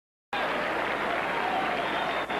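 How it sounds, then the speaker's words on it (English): Tennis crowd at Forest Hills applauding steadily as a player walks out for the second set of the 1983 WCT Final, a dense, even wash of clapping that starts abruptly and holds throughout. "Crowd is applauding as Vitas Gerulaitis comes out to assume his position here in the second set."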